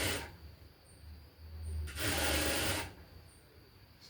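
A sewing machine stitches a blouse lining in short bursts, a quiet whirring, chattering mechanical run that swells louder in the middle, close and alone.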